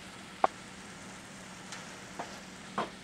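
Chanterelle and lobster mushrooms fry quietly in a pan, a soft steady sizzle broken by a few faint pops and light stirring clicks.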